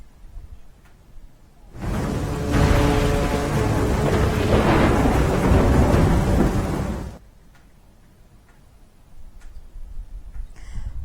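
Heavy downpour with thunder in Danta, Banaskantha, Gujarat: a loud, dense roar of rain and rumbling thunder surges in after a quiet start, holds for about five seconds, then cuts back to faint ambient noise.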